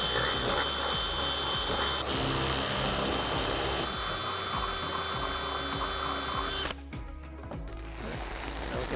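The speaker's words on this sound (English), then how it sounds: "now we can drill out our center holes to 13/32." Power drill boring 13/32-inch center holes for a Rally Innovations three-piece front splitter on a 2015-2020 GT350, a loud steady high whine that drops off briefly near the end before resuming.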